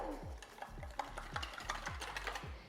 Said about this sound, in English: And we're going to mix all of that together.